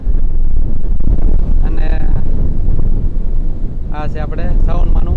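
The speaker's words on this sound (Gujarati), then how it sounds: "પવનનો અવાજ બહુ આવતો છે" Strong wind gusts at a seashore roar steadily and loudly into the microphone, with a voice talking briefly through the rumble.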